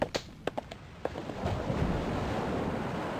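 Ocean waves roll in as a broad, steady wash of surf that builds after a few sharp pops at the start and then holds a continuous rushing roar.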